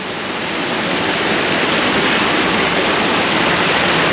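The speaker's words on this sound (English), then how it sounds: "But yeah, the water's running." Heavy, continuous roar of a waterfall running full after heavy rain on Koh Samui, a dense broadband rush that swells slightly at the start and then holds steady, close and loud with no voices.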